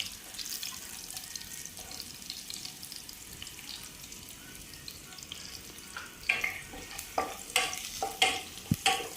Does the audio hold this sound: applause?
no